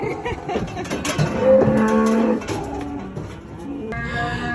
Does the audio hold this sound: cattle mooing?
yes